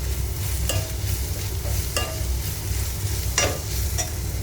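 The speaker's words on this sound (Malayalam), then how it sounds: "അപ്പോൾ അതെ ഉള്ളിയൊക്കെ ശരിക്കും വഴണ്ട് വന്നിട്ടുണ്ട്." Onions sautéing in a pan with a pinch of turmeric, a steady close frying hiss broken by a few sharp scrapes and clicks of stirring, with no talking.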